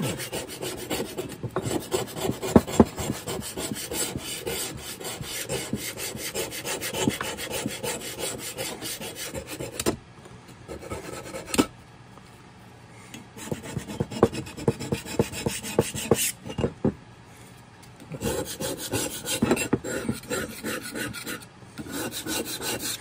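An old putty knife scrapes rust off a rusty No. 3 hand plane in repeated rapid rasping strokes, loud and close, broken by brief pauses between bursts.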